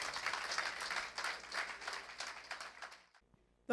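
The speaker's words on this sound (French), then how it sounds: "Acclamons très fort le Seigneur." A church congregation applauding together, with a steady burst of clapping that runs for about three seconds and then stops abruptly.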